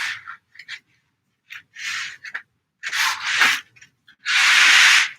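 Heavy, densely beaded fabric, about three meters of it, being handled and shaken, giving a series of dry rustling, rattling bursts in separate handfuls, with the loudest, longest rush at the end.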